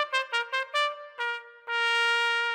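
The unicorn song melody from the children's cartoon Little Einsteins, played as a bright, clear tune: a run of short separate notes followed by one long sustained tone, with no voices over it.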